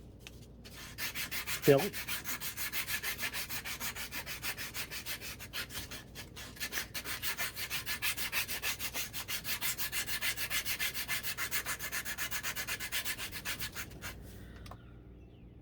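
A fishing lure body is rubbed against a sandpaper band, giving a long run of quick, even scratchy strokes with one brief squeak near the start, close and steady throughout.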